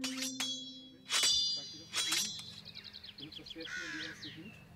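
Medieval knight weapon training with lance, bow and sword, metal clanging in a few sharp, ringing strikes, followed by a quicker run of lighter clicking knocks.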